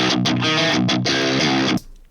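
Heavy distorted metal guitar chugging through a Logic Pro X amp simulation with a modern British 4x12 cabinet miked by a dynamic 57, dry with no reverb, loud and dense for under two seconds before cutting off abruptly.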